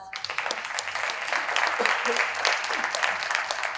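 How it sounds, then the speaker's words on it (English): Audience applause for panelists at a health conference in Dubai, a dense continuous patter of many hands clapping at moderate loudness, with some voices mixed in. "A final round of applause."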